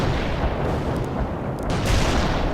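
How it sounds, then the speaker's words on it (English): A mortar barrage in the real-time strategy game World in Conflict, heard as a dense, continuous roar of booming fire and explosions that stays loud throughout. "Mortar released."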